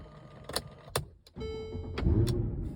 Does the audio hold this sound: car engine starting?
yes